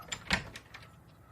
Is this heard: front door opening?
yes